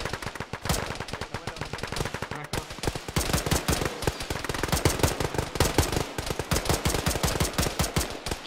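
Sustained heavy gunfire in a military shooter game, with rapid automatic bursts and overlapping shots crackling close and loud for the whole stretch, almost without a pause.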